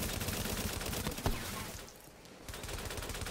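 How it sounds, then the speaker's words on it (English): Rapid gunfire rattles from a gun in the video game Rage, a dense burst of shots with one sharp crack partway through, then a brief lull before the firing resumes. "I'm shooting it."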